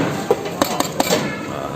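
Rice served onto a Rajasthani thali plate produces a few light metallic clinks and taps of a serving spoon against steel dishes, spaced irregularly and close up.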